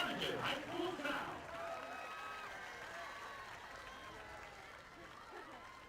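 Crowd applause at a high school football game between Brownsville Rivera and Harlingen South swells loudly at the start, then fades into a softer, sustained murmur under an announcer's amplified voice.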